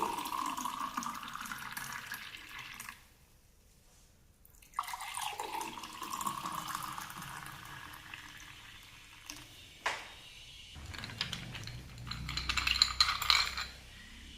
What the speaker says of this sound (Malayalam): നമ്മുടെ ജ്യൂസ് നേരെ ഗ്ലാസ്സിലേക്ക് ഒഴിക്കാം.